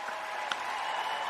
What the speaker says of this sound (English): We're gonna give you another round of applause.